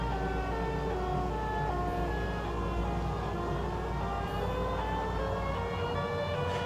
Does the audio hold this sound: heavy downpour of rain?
no